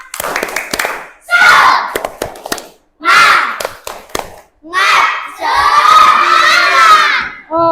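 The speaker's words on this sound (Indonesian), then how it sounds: "Kita tepuk semangat dulu. Tepuk semangat." A class of children performs a rhythmic clapping chant, tepuk semangat, in a classroom: loud group shouts alternate with bursts of sharp clapping in a stop-start pattern, close and energetic.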